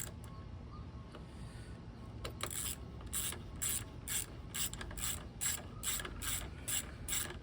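A ratchet with a 12mm socket works a fastener on the clutch master cylinder of a 1994 Honda GL1500 Goldwing. After a quiet start, close, crisp clicking comes in short rhythmic bursts of pawl ticks.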